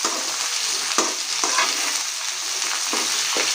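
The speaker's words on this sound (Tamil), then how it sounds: "இப்போ வெங்காயமும் சேர்த்துக்கலாம். வெங்காயம் நல்லா வதங்கட்டுங்க." Onions sautéing in a pan make a bright continuous sizzle broken by several scraping stirs of a utensil, close and clear with no talking.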